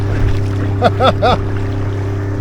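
An Aqua Marina Halve inflatable kayak on the River Trent rides through a boat's wake, with close water slaps and bumps beneath a steady motor drone, while voices call out briefly in the middle.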